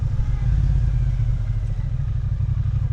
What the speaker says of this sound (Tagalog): Nakaka-addict yung tunog niya kahit stock exhaust